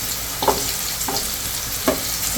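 Tomatoes, raw mango, garlic cloves and green chilies roast in a hot pan with a constant dense sizzle, broken by three soft knocks as the pieces are moved.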